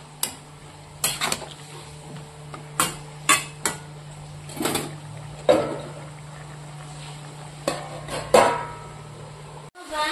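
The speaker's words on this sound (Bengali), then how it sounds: "এবার ভালো করে মিশিয়ে ঢেকে দেবো" Spiced mixed vegetables are tossed in a pan with a spatula, giving repeated clanks and scrapes at an irregular pace, close up, ending with a clattering thud as a lid goes on.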